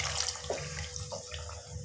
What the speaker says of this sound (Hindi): अब मैं 1 प्याली पानी डाल दूँगी